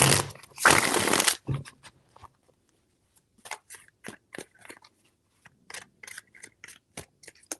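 Tarot cards being shuffled: a dense, papery riffle burst lasting about a second, then a string of soft, scattered taps and snaps as the deck is handled, with no voices.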